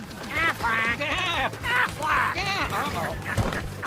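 The duck from an Aflac commercial quacks loudly in a quick series of nasal calls, up close over a low background.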